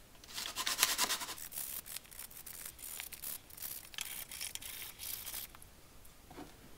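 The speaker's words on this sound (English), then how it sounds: "We'll just clean it up a bit with some sandpaper." Sandpaper is rubbed by hand to clean up a wooden part for a French cleat drill holder, giving soft rasping strokes in short bursts, close and quiet.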